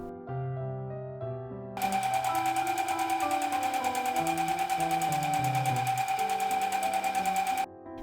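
A sewing machine runs in one steady, fast-stitching burst lasting about six seconds as it joins the front and back fabric panels of a beach cover-up at the shoulders, starting and stopping cleanly with no talk.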